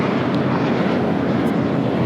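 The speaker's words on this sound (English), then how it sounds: "1590 taking off to Charlotte on an A321" American Airlines Airbus A321 jet taking off at LAX, a loud continuous engine roar with a broad rumble, steady throughout, with no talk.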